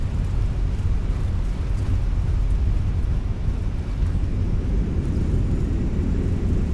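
Airliner reverse thrust and deployed spoilers on landing rollout in Microsoft Flight Simulator, a Munich to Luxembourg flight: a loud, steady low roar of engines and rushing air held without a break, with no talk.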